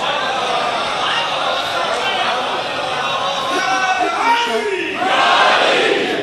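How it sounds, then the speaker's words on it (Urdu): An audience at a religious lecture chants slogans together, a loud sustained group shout with rising voices and a final surge at the end. "مجھے تو سمجھ نہیں آئی آپ نعرے کیوں لگاتے ہیں"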